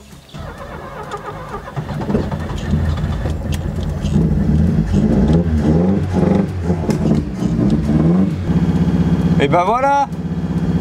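Old Ford car engine running after sitting idle for 29 years, a steady rough idle that rises into several revs and stays loud, with someone speaking briefly near the end.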